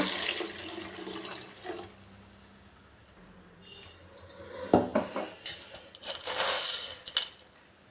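Water poured into a pot of Mandya-style sprouted-bean sambar, splashing with clinks of utensils against the vessel, rising to a louder pour and clatter in the second half, no talk.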